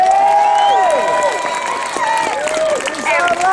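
At a 2013 bedroom tax protest in Edinburgh, a large outdoor crowd cheers and applauds loudly, with whoops and wavering shouts rising over a dense wash of clapping.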